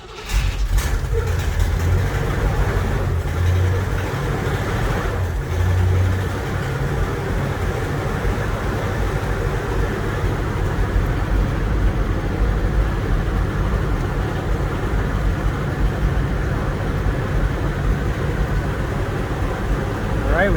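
A 1959 Cadillac engine idles steadily, its low rumble constant throughout, while the heater fan runs on high and adds a broad steady whoosh, with a voice speaking over it.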